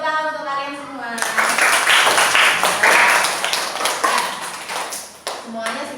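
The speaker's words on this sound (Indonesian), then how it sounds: "Beri tepuk tangan untuk kalian semua." A class of students claps together in a classroom for several seconds, dense and close, while the teacher's voice is heard before and after the clapping.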